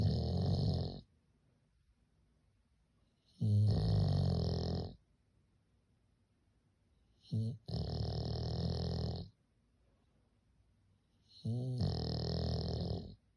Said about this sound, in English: I want to cut to my Luna snoring right now.